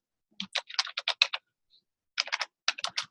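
Fingers type on a computer keyboard in quick bursts of crisp, close key clicks, with a brief pause before two more runs of typing.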